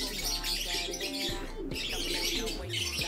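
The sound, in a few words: pigeons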